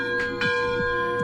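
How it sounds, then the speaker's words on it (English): A large bell rung with a rope at a riverside park in Columbia Falls, Montana clangs repeatedly in a steady swinging rhythm, its strokes ringing out and sustaining with a long metallic hum between strikes. "you can also take the rope and ring the bell"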